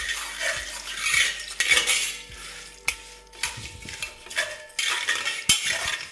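A metal spoon stirs fennel, poppy seeds, dry red chillies and dried coconut in a pan, giving irregular scraping and clinking taps over a faint dry crackle.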